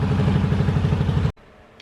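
A Yamaha Virago motorcycle engine idles while warming up, a loud, steady close-range chugging rumble that cuts off abruptly near the end, leaving quiet background.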